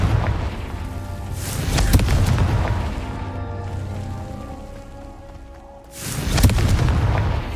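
Confringo fire spell blasts in Hogwarts Legacy: a loud booming burst with rushing crackle at the start, a sustained rumbling roar that fades, then a second heavy explosive boom near the end.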